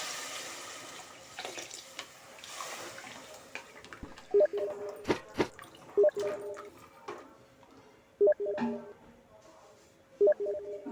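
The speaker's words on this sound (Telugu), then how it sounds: "ఈ బాటిల్తో లీటర్ బాటిల్ పోస్తున్నాను." Water is poured from a one-litre bottle into a pot of mutton paya curry, a soft steady trickle broken by a few sharp, close clicks and knocks.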